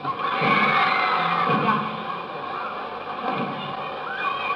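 London Palladium audience at a 1963 Beatles show making noise together, a loud, dense crowd roar with rhythmic thumps and shouts that ease slightly, then build again.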